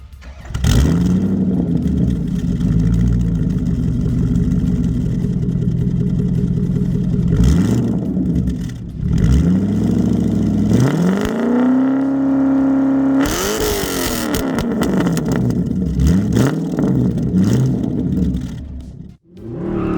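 A 1994 Corvette ZR1 engine fires up and revs repeatedly, loud and close, with rising and falling sweeps between steady idle stretches and a sharp blip near the end.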